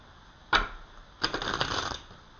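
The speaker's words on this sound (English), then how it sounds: "when you shuffle a deck of cards" A tarot deck shuffled by hand: a single sharp card snap, then after a pause a quick riffling flutter of cards lasting under a second, close and crisp against a quiet room.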